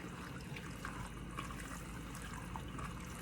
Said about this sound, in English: And now we're gonna add some stock.